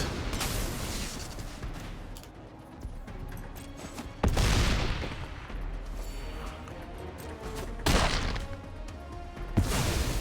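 Burner Rocket card attack effect in MTG Arena, a roaring rush of blasts and crashes with three sharp booming impacts spaced a few seconds apart over a busy rumbling bed.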